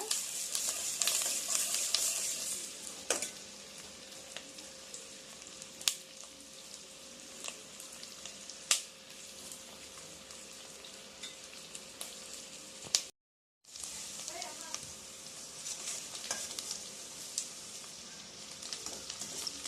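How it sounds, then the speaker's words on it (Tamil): Cashews frying with sautéed onions in a pan for paneer butter masala, a soft continuous sizzle with occasional sharp spoon taps and stirs, close by, briefly cutting out to silence partway through. "இப்போ ஓரளவு இது வெங்காயம் நல்லா வதங்கிட்டுங்க காஜு போட்டு இப்படி ஃப்ரை பண்ணிக்கோங்க"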